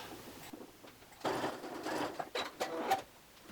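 A sewing machine bastes around a garment neckline edge at a half-inch seam in quiet, uneven bursts of stitching with short gaps between them.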